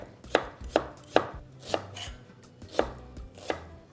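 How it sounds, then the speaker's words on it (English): A knife chops through a large onion on a cutting board in six sharp, evenly spaced strokes, close and clear with no talking. "Let's cut up this large onion"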